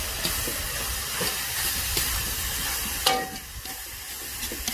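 Zirvak for a Tajik lamb plov fries in mutton fat with a steady, dense sizzle and hiss, with a brief utensil clink partway through and no talking.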